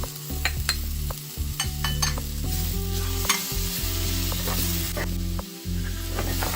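Continuous sizzling and stirring of a jackfruit stir-fry as grated coconut and crushed garlic, pepper and mustard seeds are mixed in, with a spoon scraping and clattering against the pan throughout, close and steady.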